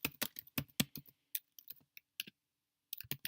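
Command-line commands are tapped out on a computer keyboard in quick, close clattering bursts of keystrokes, with a brief pause mid-way before a final flurry, no talking.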